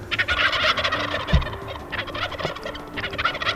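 Wild turkeys gobble loudly and close during a spring turkey hunt, several overlapping rattling calls in quick bursts with no voices.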